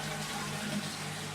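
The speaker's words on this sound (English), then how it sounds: "Flushing without any fault." A toilet in a rental property flushes, a steady close rush of running water throughout with no break, with no one talking.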